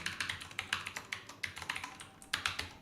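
Typing an email address on a computer keyboard, a quick irregular series of crisp close keystrokes with brief pauses, no voices.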